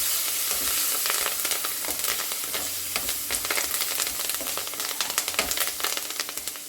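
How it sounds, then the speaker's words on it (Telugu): Curry leaves sizzle and crackle in hot oil for tamarind rice, a steady frying hiss with sharp pops throughout, close and fairly loud, no talking. "కరివేపాకు వేద్దాం"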